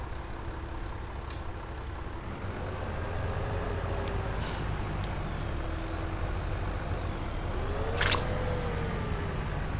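A stuck truck in Farming Simulator 17 strains with a steady low engine drone and rising, wavering revs, with a sharp hiss like an air brake release near the end.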